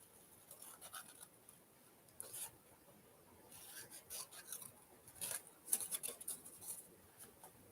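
Scissors cut through craft material in soft, scattered snips and rasping strokes, quiet and close, with faint bursts coming more often toward the end.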